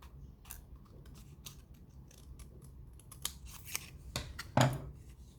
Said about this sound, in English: I'm cutting the triangle into two parts.